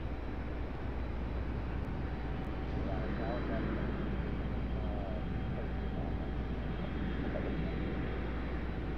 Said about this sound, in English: Got Republic Airways getting ready to depart in their Embraer.